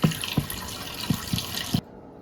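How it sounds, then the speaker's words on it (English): Water runs and splashes over broccoli seeds being rinsed in a jar, with a few soft knocks from handling, then cuts off abruptly near the end. "after that, what we want to do is we want to dump it out, and then we're going to rinse it 3 or 4 times"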